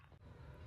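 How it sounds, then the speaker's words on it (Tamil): A man gives a single short, sharp cough at the end of a brief quiet moment in a comedy skit. "என்னடா முரட்டு இருமலா இருக்கும் போலியே"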